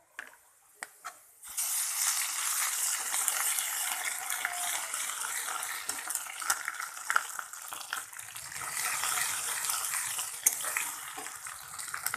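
Onion and ginger paste frying in a pan for a village-style chana dal and potato tarka: a dense, steady sizzle rises sharply after a brief quiet start and carries on with occasional crackles and scraping clicks.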